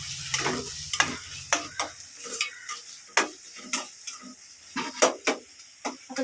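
Tomatoes and onions sauté in a pan, a soft sizzle broken by repeated sharp scrapes and taps of a spoon stirring against the pan at an uneven rhythm, close and alone without speech.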